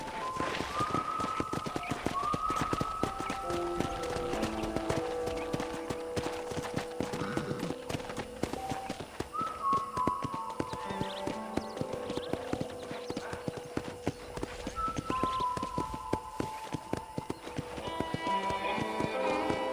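Steady clip-clop of horse hooves during riding in the Western video game Red Dead Redemption, a continuous rhythmic trot running beneath tonal music, with occasional faint snorts and no talk.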